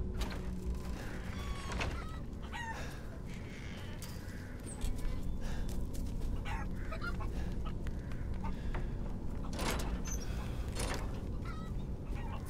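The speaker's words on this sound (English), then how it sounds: "So the chickens are still alive." Chickens cluck repeatedly at moderate distance inside the video game Resident Evil Village, with scattered squawks over a steady ambient background and no talk.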